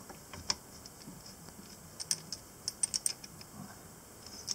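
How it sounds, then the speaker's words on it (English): A tripod mount clips onto a rifle rail, giving a string of small, sharp metallic clicks and ratcheting snaps, close and fairly quiet, clustered in the middle of the moment. "you can see how this clips onto the rail"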